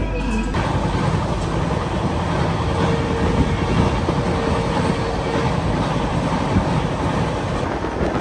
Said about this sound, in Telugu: న్యూ బొంగైగావ్ జంక్షన్ నుంచి మన ట్రైన్ అయితే బయలుదేరిపోయింది